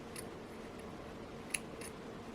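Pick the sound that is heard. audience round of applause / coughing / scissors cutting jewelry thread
scissors cutting jewelry thread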